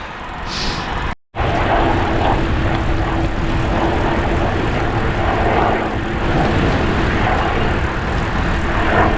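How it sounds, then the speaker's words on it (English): A steady, loud rotor-and-engine drone of a helicopter passing close overhead along Hadrian's Wall Cycleway, continuous throughout with one very brief dropout near the start. "Middle-aged cyclist versus helicopter."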